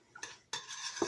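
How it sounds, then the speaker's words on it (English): A utensil scrapes and clinks in a pot as coconut milk is stirred into boiling water, giving a few short, quiet strokes close by. "we're just going to mix that in and break it up"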